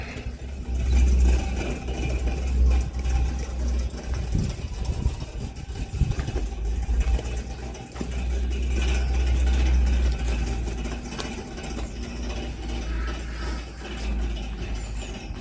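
An ancient Opel convertible engine running again after 30 years, a steady low idle with a throbbing rumble that stays close and continuous throughout, slight swells in loudness, no voices.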